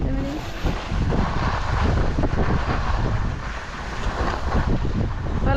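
Strong, cold wind gusts steadily across the middle of a ski slope at Åre, a loud, continuous roar buffeting the microphone with no talk.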